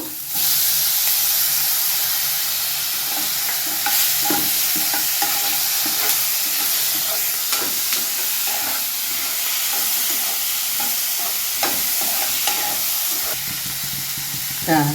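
Tomatoes fry in a pan for a North Karnataka bitter gourd stir-fry, with a constant loud sizzle and hiss and frequent scraping clatter of a spoon stirring them up close.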